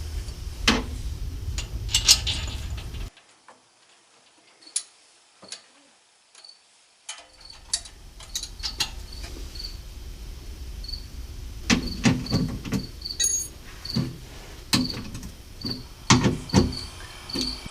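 Crickets chirp in steady high pulses outdoors beside a Honda Pioneer side-by-side during its service, loud at first, then near silence, returning with occasional clicks and clanks of tools.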